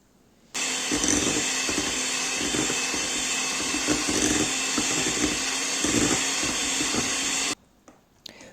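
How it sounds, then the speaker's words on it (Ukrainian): An electric hand mixer runs steadily for about seven seconds, its whisks beating a thin, runny cake batter, with a loud continuous motor whine and faint rhythmic swishes, starting and stopping abruptly. "можна перемішати тим же самим міксером, вінчиками міксера"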